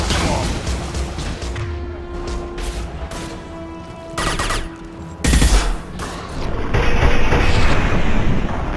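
Gunfire from the video game Mass Effect 2 rattles in loud, sustained bursts of automatic fire with heavy impacts and crashes, mixed with voices shouting during combat.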